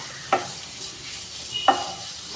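Crushed ginger and garlic fry with onions in a pan for Kerala toddy shop style beef fry, giving a steady close sizzle broken by two brief scraping stirs.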